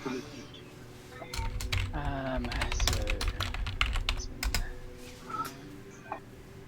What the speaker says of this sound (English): Just typing that in so I remember what that roll's for.